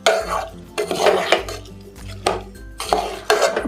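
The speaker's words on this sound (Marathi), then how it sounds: "आता आपल्याला ह्या भाज्यांबरोबर हा तांदूळसुद्धा पूर्ण असा छान परतून घ्यायचा" Soaked rice and vegetables are stir-fried over medium heat, with a spoon scraping and clanking against the metal pan in rhythmic bursts about every half second and a faint sizzle underneath.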